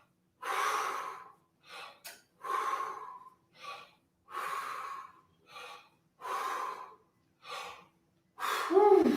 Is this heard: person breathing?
yes